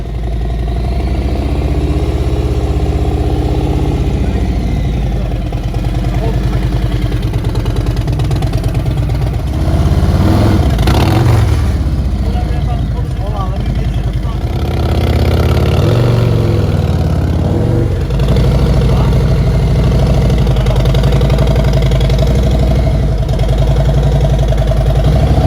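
A Harley motorcycle's engine idles loud and close while it is ridden up into a toy hauler, a steady rumbling throb with clattering thumps around the middle.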